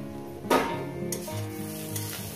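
Tomato hits hot oil in a pan of fish and small radish curry, setting off a loud burst of sizzling that settles into a steady frying hiss, with no talk.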